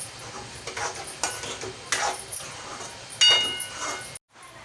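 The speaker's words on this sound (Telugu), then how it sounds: "ఇప్పుడు ఇది మొత్తం గట్టి పడే వరకు కలుపుతూ ఉండాలి." Carrot halwa being stirred with ghee in a pan, giving repeated scraping and stirring strokes with a soft sizzle underneath, fairly quiet and close, with no talking.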